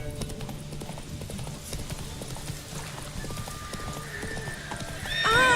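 A horse gallops in The Witcher 3 video game, rapid rhythmic hoofbeats running throughout, ending with a loud neigh near the close.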